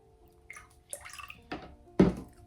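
Apple cider vinegar is poured into a gluten-free cinnamon quick bread mix, producing a few soft close splashes and drips that end in one fuller splash.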